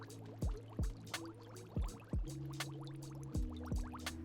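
An ozone water machine runs with liquid in a dental office, giving repeated short dripping and gurgling pops over a low steady mechanical hum, with sustained tonal whines, fairly quiet and with no talking.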